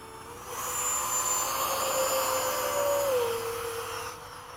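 FMS 70mm A-10 model jets fly a sunset formation demo, a steady loud ducted-fan whine with a high tone that sweeps down as the aircraft pass, continuous and without talk.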